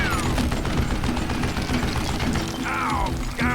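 Continuous loud gunfire and clattering weapon mechanics from the Western shooter Call of Juarez: Gunslinger, a dense barrage running throughout with rising whistles near the end.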